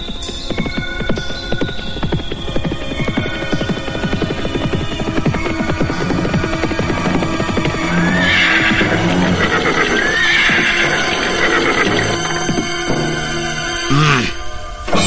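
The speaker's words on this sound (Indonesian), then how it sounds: "2 orang penunggang kuda menuju kemari." Horses with riders approaching, hooves clip-clopping steadily while several loud neighs and whinnies ring out, set against a busy, dramatic soundtrack.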